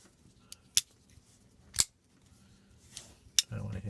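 A Hinderer XM-18 mini Wharncliffe folding knife with a new-generation detent is flicked open off its thumb stud. Several sharp, close metallic snaps sound about a second apart in a quiet room, followed by a brief rustle.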